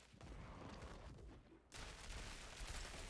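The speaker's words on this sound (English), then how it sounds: "have this massive shatter explosion" Ice shard shatter explosions crackle in Diablo 4 with a Shatter Sorceress build, a faint, dense barrage of rapid bursts that thickens into a brighter, busier volley midway through.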